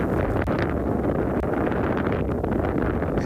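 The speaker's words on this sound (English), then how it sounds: "even though it is quite windy this afternoon" Strong, steady wind buffets the microphone on an afternoon safari drive in South African bush, a continuous loud rumbling roar with gusty rustle and no voices.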